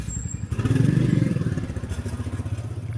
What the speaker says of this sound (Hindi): अभी लड्डू के पापा ऑफिस जाएंगे और लड्डू आता है, डेली आता है बाइक करने।